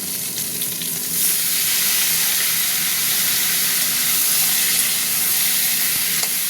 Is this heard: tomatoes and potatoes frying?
yes